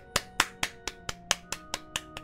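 Sharp claps ring out one by one, about ten in a little over two seconds at a steady rhythm, close and fairly loud with no talk over them, made in a Persona 5 Royal session on PS4.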